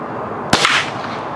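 A single sharp gunshot from a powder-burner gun fired at an outdoor range cracks out loud and close, followed by a short decaying echo over faint background noise.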